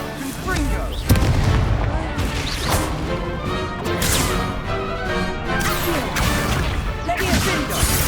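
Fiery Confringo spell blasts from Hogwarts Legacy crash and boom through a busy game battle, several loud impacts overlapping with effects and voices talking.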